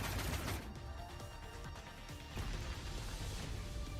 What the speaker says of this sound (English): The explosion blends with the sound of shifting of the great walls.